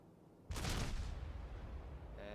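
Ship guns fire in the naval combat game World of Warships, a single deep, booming salvo that rolls into a long rumble, with a brief tonal sound near the end.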